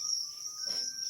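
Crickets chirp in a steady, high-pitched trill that runs unbroken through a brief moment, with a fainter lower tone underneath and no talking.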